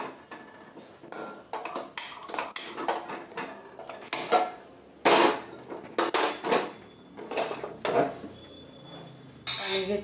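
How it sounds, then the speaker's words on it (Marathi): A wok is set down on a home stove while brinjal curry is being made, with a close run of sharp metallic clanks and pot-and-pan clatter and no speech. "कढई ठेवली"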